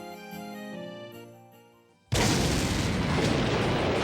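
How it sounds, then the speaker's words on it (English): Large explosives detonate during a film shoot: after a fading tonal music-like passage, a sudden massive blast erupts and roars on loudly, a sustained, broadband boom and rumble filling the rest of the clip. "the shockwave created by the explosives is far greater than we could have ever imagined"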